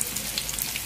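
Tofu pieces frying in hot oil until golden for a vegetarian braised dish, giving a steady, close, dense sizzle with fine crackles and pops throughout.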